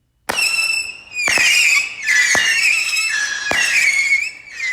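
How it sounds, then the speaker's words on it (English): A firework whistles as the empty half of its tube vibrates, giving loud shrill shrieks. Several sharp cracks set off a string of wavering, sustained whistles that overlap, with no voices. "once the firework is lit, the empty part of the tube will vibrate,"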